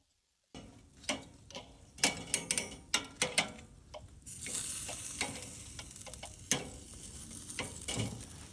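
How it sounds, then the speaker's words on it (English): Chicken wings sizzle over hot charcoal on a kettle barbecue, a steady close frying hiss broken by sharp crackles, pops and clicking taps of tongs or the grill grate, with no one talking. "we're just going to move the wings directly over that charcoal to start crisping up the outside"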